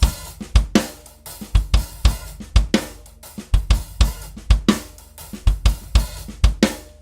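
Drum groove from a song, a shuffled half-time triplet feel with the bass drum on the third triplet of beat four, played alone on a kit with steady hi-hat and punchy kick and snare hits.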